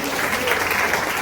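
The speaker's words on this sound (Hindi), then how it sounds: "ताली बजाओ, ताली" An audience at a church service claps together in a dense, continuous burst of applause that fills the short moment, close and fairly loud, with a voice speaking over it.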